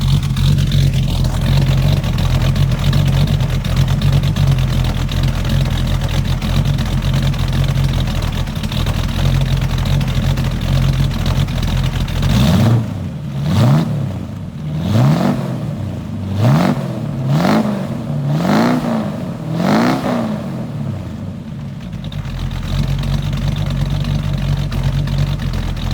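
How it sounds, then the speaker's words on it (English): A 1937 Ford 5 window coupe hot rod idles with a steady, uneven lope, and then a handful of rhythmic surges follow one another before the engine settles back to a low, even rumble. "Just got a nice lope at idle. I'll let you hear it."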